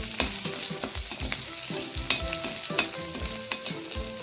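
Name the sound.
onions frying until browned, green chillies added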